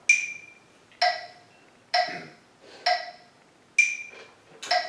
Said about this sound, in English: So I've already set my metronome to that speed.